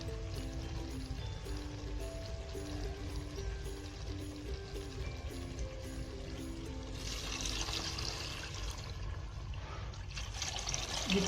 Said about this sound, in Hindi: अब इसमें मैं पानी डालने लगी हूँ